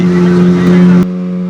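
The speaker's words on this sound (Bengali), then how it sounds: "আমাদের এই স্পিড বোটটা কিন্তু ছেড়ে দিয়েছে দেখুন এগিয়ে চলছি" Speed boat engine running on the Meghna river between Laxmipur and Bhola, a loud steady droning hum that drops abruptly to a lower, quieter level partway through, with someone speaking over it.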